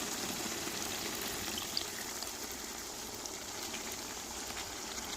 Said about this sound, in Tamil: தேவையான தண்ணி ஊற்றிக்கிருவோங்க